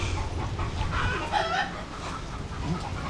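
Backyard chickens clucking and murmuring close by on a poultry farm, a steady run of soft overlapping clucks with a few louder calls.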